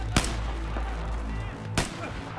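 Gunfire in the Battlefield 4 video game: two loud, sharp shots about a second and a half apart, each with a booming low rumble, over a constant heavy low-frequency background.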